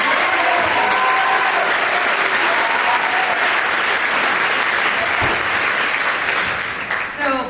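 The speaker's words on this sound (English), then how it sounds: "If you could just give them one more round of applause." An audience at a high school spring concert gives a dense, sustained round of applause that fills the room and tapers off near the end.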